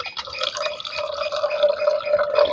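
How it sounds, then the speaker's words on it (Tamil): Water is poured over ice cubes in a glass while sarbath is being made, giving a close, continuous trickling and splashing with a bright ringing tone that rises as the glass fills. "இப்போ நாங்கள் இது கூட தண்ணி சேர்த்து சர்பத் செய்வோம்."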